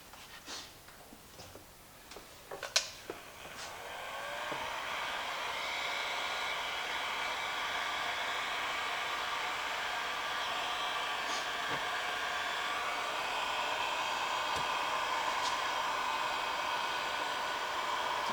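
Heat gun blowing on heat shrink tubing over a solder joint on a Roomba IR sensor wire, a steady close airy roar that starts after a few faint clicks and handling sounds and runs on without break.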